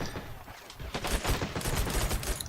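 Rapid gunfire from a video game match with an M1 Garand rifle and SMGs in play, a dense run of sharp close shots layered with other weapons fire throughout.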